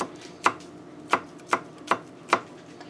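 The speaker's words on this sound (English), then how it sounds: "So 2 fresh cloves of garlic, and that's going to infuse and give you a nice fragrant flavor" Fresh garlic cloves finely chopped with a knife on a cutting board: five crisp, close chops spaced irregularly, each a sharp thud with a bright edge, alone in a quiet kitchen.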